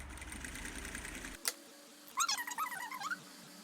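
An electric sewing machine stitches the hem of a cotton dish towel, running steadily for over a second before stopping with a sharp click, after which a few brief high-pitched chirping cries follow in a quieter room.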